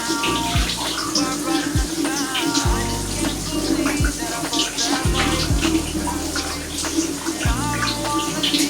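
Food being washed under running water from a tap while preparing ginataang papaya with hotdog, a steady splashing flow close by that fills the whole clip, with faint background noise underneath.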